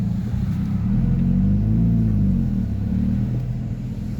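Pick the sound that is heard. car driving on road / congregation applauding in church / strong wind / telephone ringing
car driving on road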